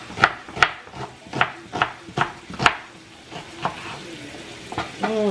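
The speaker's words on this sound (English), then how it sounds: "Just gonna cut up a onion here." Knife chopping an onion on a cutting board: about eight distinct, evenly spaced thunks near and moderately loud, followed by softer scraping and a brief rustle at the end.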